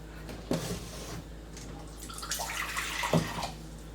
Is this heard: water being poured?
yes